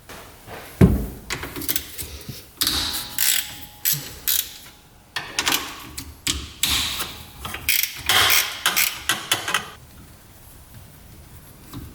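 Nut being removed from a UTV engine's cam sprocket with a ratchet: rhythmic bursts of rapid clicking ratchet strokes, close and fairly loud, with a heavier clunk early on, tapering to quiet at the end, no talk.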